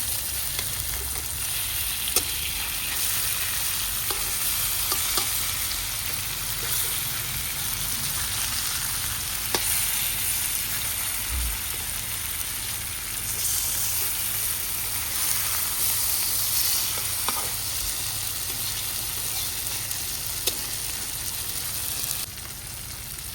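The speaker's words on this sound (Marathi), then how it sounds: "आता मी मच्छी टाकून घेतल्या ना, आता मी पलटी करते." Fish fries in a pan with tomato, a loud, continuous sizzle holding steady for over twenty seconds, with occasional faint clicks and scrapes as the pieces are turned.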